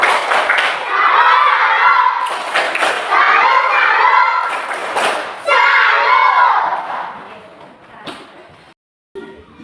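Students stand in a micro-teaching classroom and perform a rhythmic group clapping routine, with sharp bursts of hand claps and thumps mixed with children's voices, loud and close.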